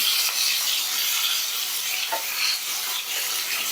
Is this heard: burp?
no